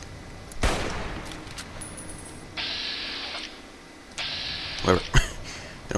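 Gunshots in Fallout New Vegas ring out as a few sharp, separate cracks, one early and a quick pair near the end, amid game noise, with someone talking over them.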